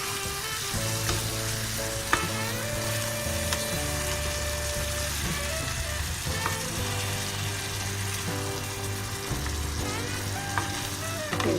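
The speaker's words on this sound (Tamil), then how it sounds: "மசாலா போட்டு ஒரு 2 பெரட்டு நல்லா பெரட்டிட்டு மசாலா வந்து ஃப்ரை ஆயிடுச்சு" Masala spices fry and sizzle in a pan for chicken curry, with a steady soft sizzle and occasional stirring scrapes, heard quietly alongside background music.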